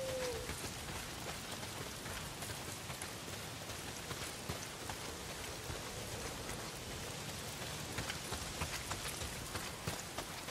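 Heavy rain in the video game Days Gone, a quiet, dense, continuous patter of drops hitting surfaces with no voices over it.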